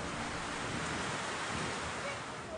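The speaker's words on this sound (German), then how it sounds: "Das Zentrum des Gewitters trifft genau auf den Flugplatz." Heavy thunderstorm over an airfield, with steady dense rain hissing close by and a low rumbling thunder undertone running through the whole short stretch.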